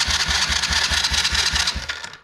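A Chinese kids' quad engine cranks over on a jump starter, a rapid rhythmic chugging of about a dozen even compression pulses that never catches, close and fairly loud before trailing off.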